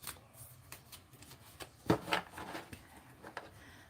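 A large tarot deck is given a regular shuffle, the cards riffling and flicking in short quick bursts, close and fairly quiet with no talking.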